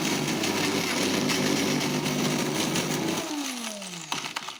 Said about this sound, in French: quand vous entendez qu'il n'y a vraiment plus de choses qui passent et que le bruit du moteur est régulier